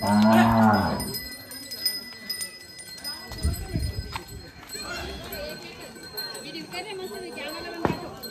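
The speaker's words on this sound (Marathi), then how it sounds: "तिकडं चालवले आता आपले बैल" Village bulls being driven to a Diwali gathering, opening with a loud, close, drawn-out moo, followed by people talking and scattered movement noises of the animals.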